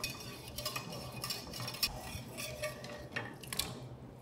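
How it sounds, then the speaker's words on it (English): A whisk beats stock into a thickening mixture in a pot, with quiet, rapid metallic clinks and scraping strokes repeating in an uneven rhythm, close by and soft, without speech. "So you wanna whisk this really well"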